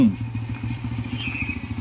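Motorcycle engine running rough during a bike ride, a close, uneven throbbing idle with rhythmic low pulses and some clatter throughout.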